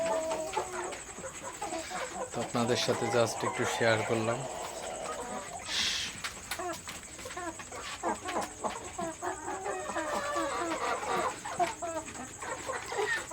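Farm chickens, Sonali birds and a large Brahma hen over five kilograms, cluck and murmur repeatedly close by, with a brief crow-like call, mostly under someone talking throughout.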